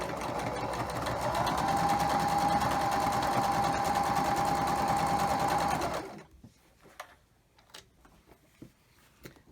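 A sewing machine stitches quilt fabric pieces for a log cabin block, running as a steady, close mechanical whir for about six seconds before stopping. Light handling taps and rustles of fabric follow.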